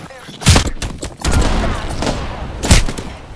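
Gunfire in Apex Legends, a few loud close bursts of shots punching out at intervals, with a sustained rush of battle noise between them and a voice calling out under the shooting.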